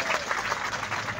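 Dense clapping from an outdoor ceremony crowd in a town plaza, celebrating emoliente vendors. It is a brief, steady wash of many hands applauding together at close range.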